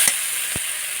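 A spice paste of turmeric, Kashmiri chilli and coriander powder frying in oil for a village-style pumpkin curry, a constant bright hiss with two brief soft taps from stirring.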